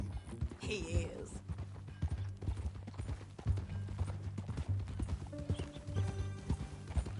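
Horse hooves clip-clop in a steady walking rhythm in Red Dead Redemption 2, close and moderately loud, layered over other low game sounds and a faint voice.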